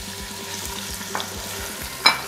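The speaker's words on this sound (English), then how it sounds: "allow this cooking oil get hot. Just a little. To add in your shrimp." Shrimp frying in hot cooking oil give a steady close sizzle with soft crackles, a couple of brighter pops near the end, and no talking.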